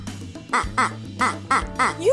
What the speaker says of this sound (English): What sound does a duck make? It quacks.